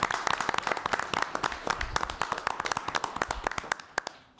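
A small group at a town council meeting gives a short round of applause, sparse close hand claps, fairly faint, tapering off toward the end.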